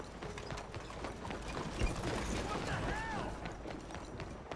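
Horse hooves clip-clop in Red Dead Redemption 2, a steady trotting rhythm close by, mixed with game ambience and faint mechanical creaks.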